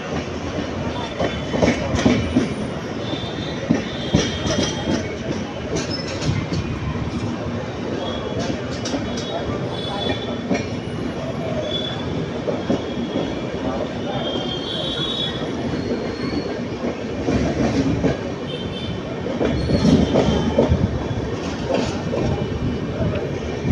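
A passenger train on the Salem to Bangalore route runs along the tracks, with steady rumbling, clattering wheels and occasional squeals heard close up inside the carriage. Faint voices murmur in the background throughout.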